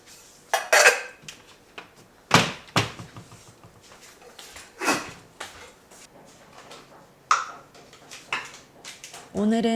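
A pot and other kitchenware clatter during lunch preparation at home, with several sharp metallic knocks and clinks of cutlery coming and going. Softer handling noises fall between them, and the ending is loud.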